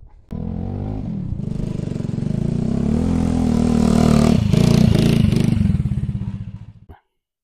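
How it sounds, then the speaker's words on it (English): A Dalesman motorcycle engine starts abruptly and runs loud and close, its rough throbbing rising as it revs, with some mechanical clatter, then fading and cutting off into silence. "I'm pretty confident in this bike, so I'm going to ride it there."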